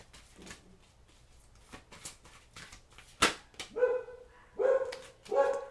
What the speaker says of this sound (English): Hear that? Even the dogs are celebrating for you.